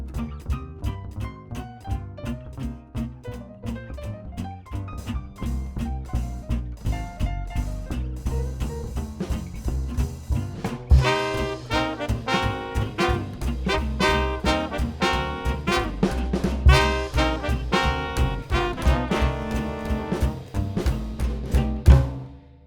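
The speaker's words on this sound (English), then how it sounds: "I will be going from the hi-hat during the piano solo to the ride cymbal and the crashes for the shout chorus." Swing band playing, with drums shifting from hi-hat behind piano to ride cymbal and crashes for the shout chorus; ensemble grows fuller and louder midway, no talking.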